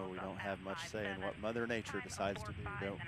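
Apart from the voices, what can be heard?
No distinct noise like a dog, phone or traffic.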